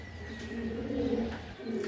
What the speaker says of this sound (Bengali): এটা একটা নর কবুতর মাখছি।